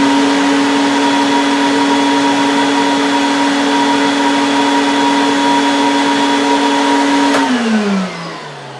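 A Craftsman 4-gallon, 5 HP wet/dry vac runs with no hose attached, giving a loud, steady motor whine with a strong tonal hum. Near the end it is switched off and the pitch sinks as the motor spins down.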